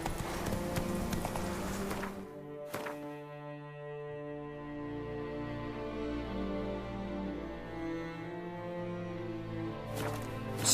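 Roach, the horse in The Witcher 3 video game, gallops with rhythmic hoof beats over a sustained, droning tonal background, moderately quiet throughout.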